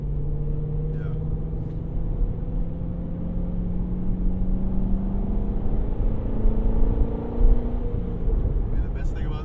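A C6 Corvette Z06 with its 7-liter engine drones low and steady while driving, heard from inside the cabin as a smooth rumble with a slowly rising engine tone and faint voices.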